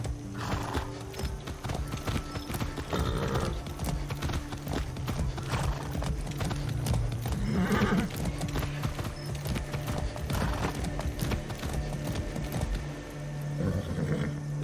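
Horse hooves clip-clop steadily through a Far Cry 6 game scene, a continuous rhythmic trot with occasional whinnies and a low engine-like rumble underneath, with no talk.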